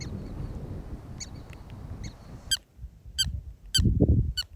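Prairie dogs give sharp, high squeaks outdoors, a string of brief chirps repeated at a steady rhythm, nearby and clear over wind and low rumbling background noise.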